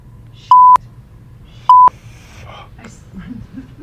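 Two short, loud electronic beeps from a phone alarm, each a steady tone about a fifth of a second long, spaced roughly a second apart, followed by faint rustling and murmured background sounds.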